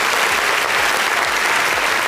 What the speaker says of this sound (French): Est-ce qu'on peut applaudir Shekinah bien fort, s'il vous plaît?